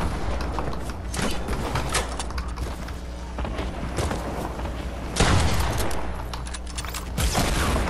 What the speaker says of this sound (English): Okay, I see you. Rocket spamming.